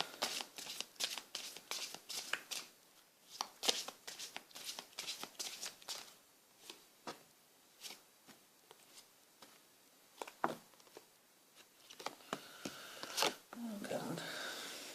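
Tarot cards being shuffled for a love reading: a long run of crisp riffles, flicks and slaps, steady then briefly pausing, close and fairly quiet, ending with a softer rustle.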